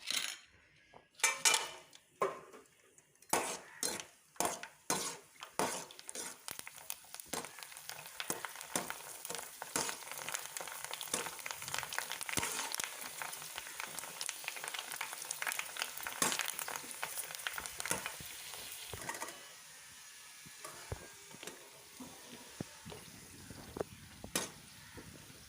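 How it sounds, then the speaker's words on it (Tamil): Panipuri puffs sizzle and crackle in hot oil on low heat, a steady bubbling hiss broken by sharp metal clinks of a ladle or spoon against the pan, with a few louder clatters at the start and end. "இப்போ வாங்க இதை ஃப்ரை பண்ணிக்கலாம்."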